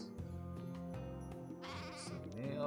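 Sheep bleat in the Craft The World video game, a few loud wavering calls in quick succession over steady game music, with no talking.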